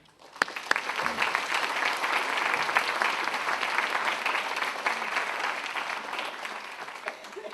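Sustained audience clapping welcomes artist Donald Baechler to a Monday noon lecture, a steady dense patter of many hands starting abruptly and holding at even loudness throughout.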